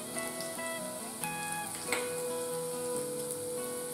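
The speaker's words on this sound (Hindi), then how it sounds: "मसाले को अच्छे से भुनना है।" Ground spices such as turmeric, salt and red chili roasting in hot oil with cumin and green chilies for an aloo sangri curry, a steady close sizzle with faint stirring taps, no talking.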